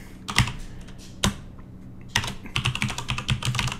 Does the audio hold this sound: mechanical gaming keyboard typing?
yes